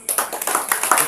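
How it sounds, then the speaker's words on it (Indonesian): A quick burst of hand clapping, several people clapping fast and unevenly for about a second, close by and fairly loud. "Tepuk tangan."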